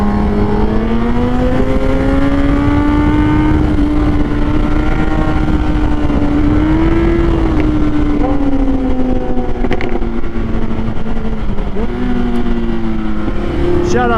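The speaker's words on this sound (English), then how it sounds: "The Huracan's getting wild. He's slinging gravel everywhere." A Lamborghini Huracan Evo driven hard on gravel gives a loud, continuous engine drone whose pitch rises and falls as it revs, steady throughout with no break.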